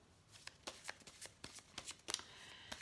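Tarot cards shuffled close by in a quiet room, a soft papery riffle of irregular quick flutters and taps, fairly faint and with no talk.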